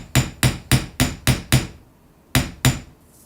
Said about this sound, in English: now at this point we can just hammer it with our flat side